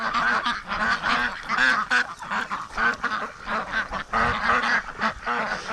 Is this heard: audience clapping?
no